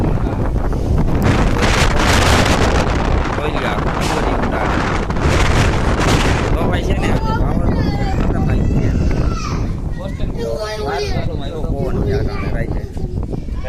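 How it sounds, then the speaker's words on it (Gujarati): Strong wind buffets the microphone in loud, continuous gusts, with people talking over the roar throughout. "પવન છે ને ખતરનાક પવન છે"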